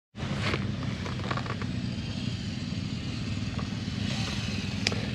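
A big adventure motorcycle rides an off-road trail at an adventure bike festival. Its engine drones steadily and fairly close throughout, with occasional rattles and clatter from the rough ground.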